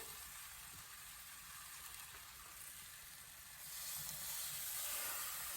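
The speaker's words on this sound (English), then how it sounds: "Add a little bit of water." Water hitting a hot pan with a ribeye steak under the broiler sets off a soft, steady sizzle and hiss that swells louder partway through, heard alone without talk.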